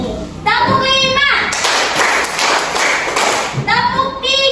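Schoolchildren in a fourth-grade classroom clap in quick unison bursts during a counting clap game, a dense patter of hands that fills the middle of the clip, with a child's or teacher's voice chanting before and after.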